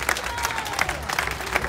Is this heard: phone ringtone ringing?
no